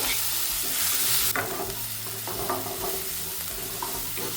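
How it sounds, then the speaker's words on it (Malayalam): Onions sauté with ginger-garlic paste in a pan, with a busy sizzle broken by the scrape and clatter of stirring. A brief hiss near the start gives way to uneven, close crackling. "സവാള വഴറ്റിയെടുക്കാം"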